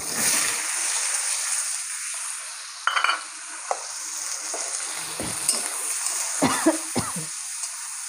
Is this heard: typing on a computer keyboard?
no